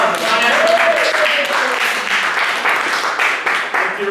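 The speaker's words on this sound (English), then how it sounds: "Let's give him a round of applause" A seminar audience applauds as a comedian is welcomed on stage, a dense, steady wash of clapping that fills the room for several seconds, with a few voices mixed in.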